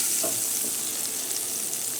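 Butter melting and sizzling in a medium frying pan on the stove, ahead of frying eggs, a steady close hiss and crackle with no talking.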